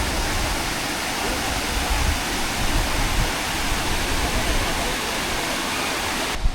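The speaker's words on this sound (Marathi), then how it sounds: "हा बघा धबधबा." The Maruti waterfall at Chondhe near Shahapur roars as a loud, unbroken wash of rushing water, heard up close and steady throughout.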